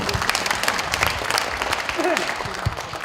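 A crowd at a Korean lawmaker's legislative report meeting claps steadily in dense applause, with a voice briefly audible underneath.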